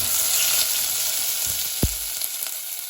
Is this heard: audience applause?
no